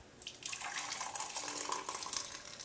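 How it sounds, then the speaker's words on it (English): Herbal tea pours back into a measuring cup as a steady, soft trickle of liquid that runs for a couple of seconds at close range with no talking. "sometimes what I'll do is I'll pour everything back into the cup"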